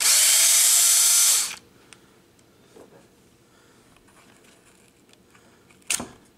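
A power drill whirs loudly and steadily for about a second and a half as it backs screws out of a Maverick Quantum 4x4 RC car, then stops, followed by faint handling clicks and a short sharp clatter near the end.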